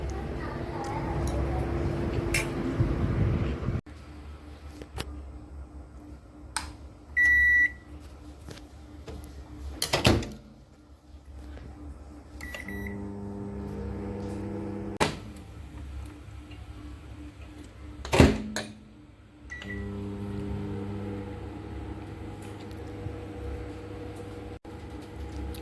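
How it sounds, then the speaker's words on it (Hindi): Microwave oven reheating biryani, a low steady hum broken by sharp beeps and the thud of the door opening and closing, with occasional speech. "सोचूं गरम करके लाऊं ओवन में।"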